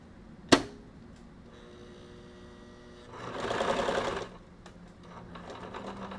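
A sewing machine stitches in a steady mechanical whir with a louder burst partway through, as if running back and forth; a sharp click opens the sound and a fainter hum trails at the end.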